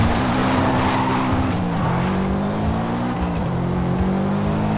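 A Subaru Impreza 22B STI in Forza Horizon 5 spins out with loud, continuous tire squeal and skidding over its revving engine. The engine pitch wavers and shifts as the car slides, and there is no talk.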